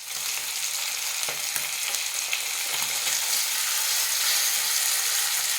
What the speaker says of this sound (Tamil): இப்போ இன்னொரு சைடும் இது அப்படியே ஃப்ரை ஆகட்டும்